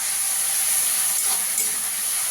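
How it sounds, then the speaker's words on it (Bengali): Loud, steady hissing sizzle fills the clip as water hits hot ground coriander and spices frying in a pan during paneer cooking. The sound is close and continuous with no talk. "জল দিয়ে দেবো, মশলাটা পুড়ে না যায়।"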